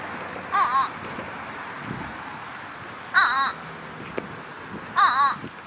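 A crow caws three times, spaced a couple of seconds apart, each a short harsh call over faint outdoor background noise.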